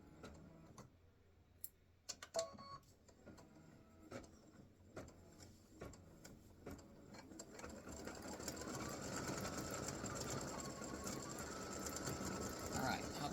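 An embroidery sewing machine stitches an applique Christmas gnome design, starting with scattered ticks and clicks and building into a steady, louder mechanical whir close by.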